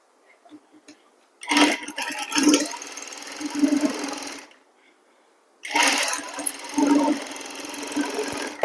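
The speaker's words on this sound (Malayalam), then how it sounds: "ഈ രണ്ട് പീസും കൂടെ ഒരുമിച്ച് ചേർത്ത് തയ്ക്കുക" A sewing machine stitches two pieces of pants together in two loud runs of rapid, rhythmic mechanical clatter, separated by a short quiet pause, heard close and alone.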